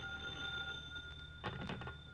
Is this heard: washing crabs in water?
no